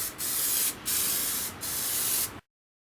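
Spray paint misted onto aquarium glass as a background, three steady hissing bursts in quick succession with short gaps, close and clear, then silence.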